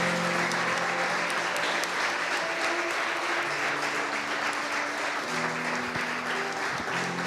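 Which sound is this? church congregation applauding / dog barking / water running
church congregation applauding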